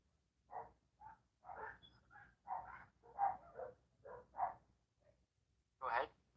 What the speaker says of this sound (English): I got my dogs barking in the background